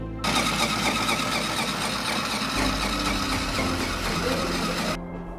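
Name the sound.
sewing machine stitching face shield mask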